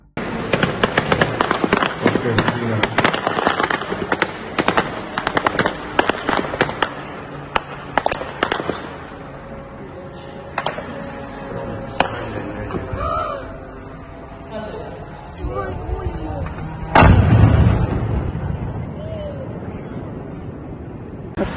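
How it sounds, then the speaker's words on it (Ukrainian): A rapid series of powerful explosions from a drone attack on the oil refinery in Tuapse, Russia, at night, heard as dense cracking blasts that thin out, then a heavy boom later, with people shouting nearby. "пролунала серія потужних вибухів"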